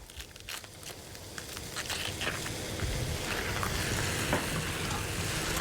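Sliced mushrooms and onions fry in a hot pan, giving a steady close sizzle with crackles and the scrape of stirring. No one speaks.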